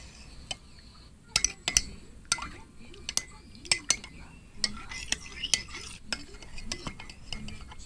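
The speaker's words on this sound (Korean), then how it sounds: "이렇게 섞고 있어요." A spoon stirs a pudding mixture in a bowl up close, giving a run of irregular light clinks and scrapes against the bowl.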